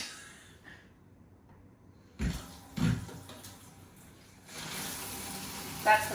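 Cold water gushes from a newly fitted bendable kitchen sink tap, a steady broadband rush filling the last couple of seconds after a quiet stretch broken by a few dull knocks.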